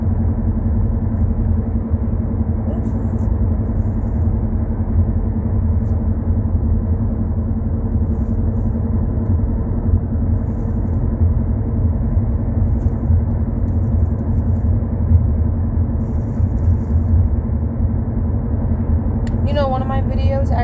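Steady low road rumble and engine drone heard from inside a moving car, continuous and fairly loud throughout, with a faint high rattle near the end.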